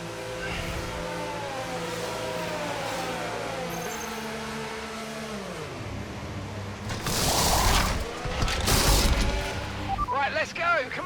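Race car engine in the F1 25 video game, racing at the Circuit of the Americas in the USA, a steady whining drone with rising and falling pitch sweeps, then loud rough bursts and crashes near the end.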